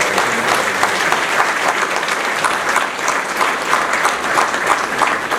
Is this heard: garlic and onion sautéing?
no